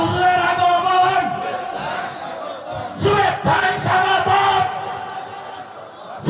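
A gathered crowd shouts the takbir, 'Allahu Akbar', in a loud collective roar of voices that swells and surges in a couple of waves, with a sharp burst of shouting midway.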